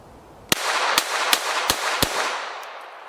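Five sharp gunshots from a Kel-Tec .22LR high-capacity pistol are fired in a steady rhythm about half a second apart. Each crack is loud and close, and a bright ringing tail follows the shots.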